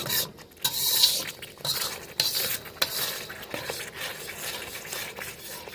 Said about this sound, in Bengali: মশলার থেকে তেল ছাড়া পর্যন্ত আমাদের কষিয়ে নিতে হবে।